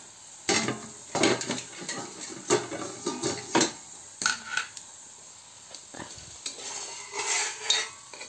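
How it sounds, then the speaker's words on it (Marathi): A lid lifted off a pan of boiling potatoes cooking for aloo bhindi sabzi, giving a series of close metallic clanks and scrapes with a faint sizzle underneath, then quieter clatter toward the end. "तर आता आपण झाकण काढून बघूया।"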